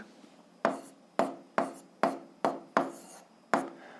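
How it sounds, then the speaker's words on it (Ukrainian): Handwriting an algebra answer produces a series of six or so sharp, close strokes on paper, each starting with a scratchy attack and fading out, spaced roughly half a second apart in a quiet room without speech. "Ну що ж, записуємо відповідь. Пишемо відповідь."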